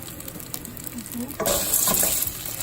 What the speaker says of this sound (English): I'm going to brown the pasta, the Coditos.